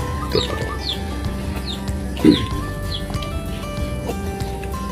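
A hen clucks several times nearby in short bursts, one louder squawk in the middle, with faint chirps from other birds around.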